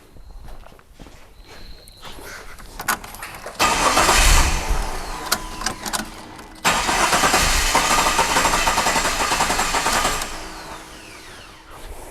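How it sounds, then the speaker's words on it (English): A Jeep engine cranking with the fuel fuse removed, two long loud bursts of starter whirring close by that never catch, separated by a brief pause, with footsteps and light clatter before the first crank. "We're just gonna quickly crank it and just make sure the fuel lines are run out of fuel."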